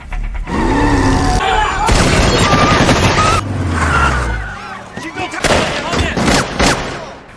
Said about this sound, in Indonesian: Aksi baku tembak pun terjadi.